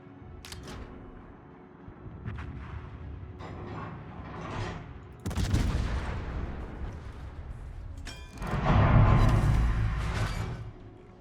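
Main battery guns of the Soviet cruiser Petropavlovsk firing in the World of Warships video game, several booming salvos spread through the clip with the loudest near the end, over steady engine and sea noise.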